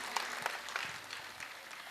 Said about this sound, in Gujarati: એકવાર જોરદાર તાળીઓ થઈ જાય